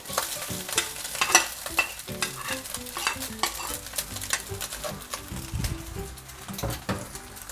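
Egg and rice stir-fried together in a pan for tofu-style fried rice, a steady scraping stir and sizzle with clattering spatula strokes close up, no voices.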